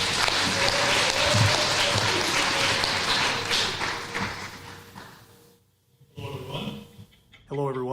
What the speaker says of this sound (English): let's hear a big round of applause for Mr.